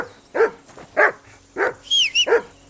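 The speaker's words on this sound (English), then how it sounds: "Call off that damn dog before he wolfs down the last of our meat." A dog in the medieval video game Kingdom Come: Deliverance 2 barks four times in a steady rhythm, close and loud, with a brief higher yelp or whine between the last barks.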